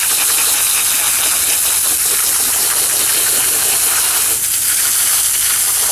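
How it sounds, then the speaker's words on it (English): Garden hose spraying water onto grass to rinse drywall mud off tools, a steady loud hissing gush that runs continuously and close, with a brief dip in flow near the end. "But if you just hose it in like this"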